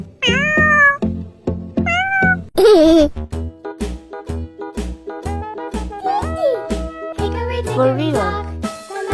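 A cat meows repeatedly and loudly up close, with several drawn-out, wavering cries amid a bouncy backdrop of musical notes in a children's animal-names cartoon.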